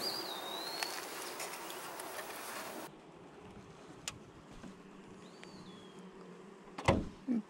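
Honey bees hum faintly in an opened hive, a soft continuous drone with occasional louder passing buzzes and light knocks.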